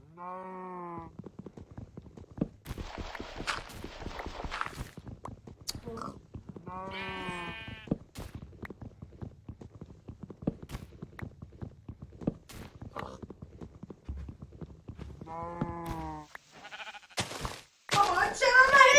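Sheep in a survival-crafting video game bleat several times, with short wavering calls spaced several seconds apart. They sound over constant soft footstep clicks and game noise, with a louder burst of game sound near the end.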